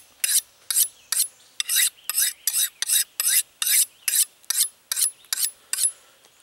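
A curved kukri-style knife blade is drawn across sharpening rods in a steady series of about fifteen crisp, bright scraping strokes, close and loud, with short gaps between them and no other sound.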